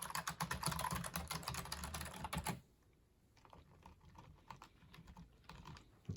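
Fast, loud clacking from typing on a wired, non-quiet computer keyboard fills the first half, then gives way to softer, sparser key taps up close with no talking.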